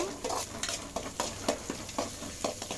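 Chopped onions and onion greens stirred in hot oil in a pan after mustard seeds, with repeated scraping strokes of a spoon over a steady sizzle, close and moderately loud.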